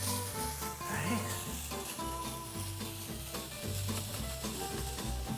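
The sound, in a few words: sausage browning and sizzling in a pan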